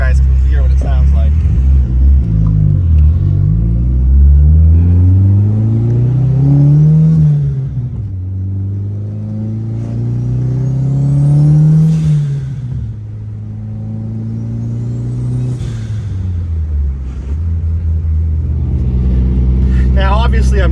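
A big-turbo Dodge SRT-4 engine rumbles loudly as it accelerates through gears, pitch climbing and dropping repeatedly, with someone talking over it.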